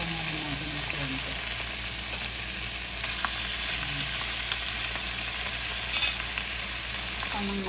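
Chicken browning in a frying pan gives a steady, close sizzle with faint stirring scrapes, a short louder spatter near the end and a low background hum.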